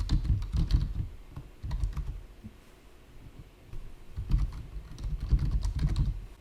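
Close computer keyboard typing while a notebook name is entered in Jupyter Notebook, rapid bursts of key clicks with a brief pause midway, and no talking.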